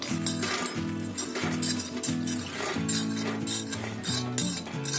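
Roasted vegetables being scooped from a pan into another pot in a home kitchen, metal spoon clinking and scraping repeatedly against the vessels in an uneven rhythm, close and clear.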